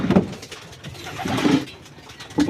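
Racing pigeons kept for derby racing coo in low, throaty bursts, the coos repeating close by at a steady pace with no voices.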